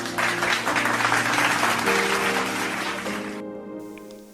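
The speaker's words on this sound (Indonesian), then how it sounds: "Ayo adik-adik beri tepuk tangan." Children at a Sunday kids' church service clap together in a loud, steady burst of applause that continues for several seconds, with faint voices mixed in, then thins out near the end.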